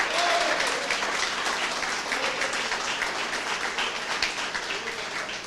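A church congregation at a pastors' gathering gives a steady, dense round of applause that holds evenly throughout, with faint voices mixed into the clapping.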